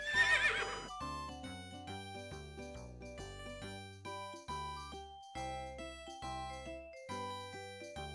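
A cartoon horse, El Caballo, gives a short, loud whinny at the very start, then light music carries on alone with a bouncy rhythm.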